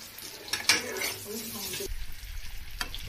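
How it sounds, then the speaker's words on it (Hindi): Potatoes frying in a pan give a soft sizzle with a few clinks of a utensil against the pan, close but fairly quiet, with a brief muffled knock near the end. "इधर आलू फ्राई हो रहा है"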